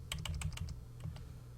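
Fingers type on a computer keyboard in a quick run of about eight crisp, close clicks, followed by a short pause and two more taps, with no talking.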